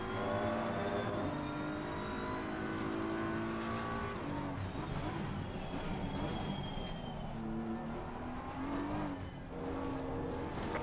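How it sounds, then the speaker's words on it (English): GT3 race cars in Assetto Corsa Competizione at Silverstone roar continuously with high engine whine, shifting revs and passing cars, loud and steady throughout with no speech. "Faster cars approaching. Watch out."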